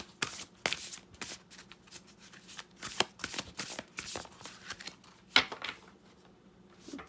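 Oracle cards from the Spellcaster's Oracle deck are shuffled by hand in a tarot reading, with a series of crisp, irregular riffling and slapping bursts, some sharper than others, close and clear with no speech.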